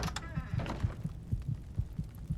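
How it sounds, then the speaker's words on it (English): A steady heartbeat thumps in a slow, regular double-beat rhythm, low and muffled, with a faint hum underneath. "So intense going through a dungeon with the heartbeat sound the whole time."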